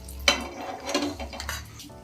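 A spoon scrapes and taps against a pan while ghee-fried dry fruits are scooped out into a bowl, giving a few sharp metallic clinks and soft scraping sounds over a faint sizzle.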